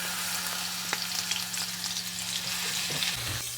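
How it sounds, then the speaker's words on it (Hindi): Finely ground onion paste fries in a pan with a steady, soft sizzle and bubbling, stirred now and then, with no voices. "हल्का सा फ्राई कर लेंगे"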